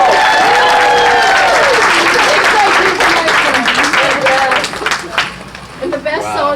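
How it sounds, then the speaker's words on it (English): Audience applause and cheering at a traveling sideshow's tenth anniversary show, loud and sustained across the whole stretch, with voices and whoops mixed into the clapping as it tapers toward the end. "give a round of applause, you guys."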